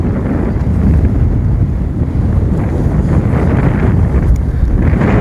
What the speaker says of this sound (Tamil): காற்று உச்சகட்டமாக அடிக்கி.